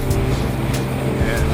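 A Sea-Doo Spark personal watercraft with a new impeller and wear ring accelerating hard across open water, its engine a loud, steady, close droning roar with rushing wind and spray noise throughout.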